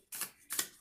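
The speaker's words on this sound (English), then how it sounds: "I'll just keep shuffling." Tarot cards being shuffled give a few quiet, crisp riffling bursts, three short flicks close by in a quiet room.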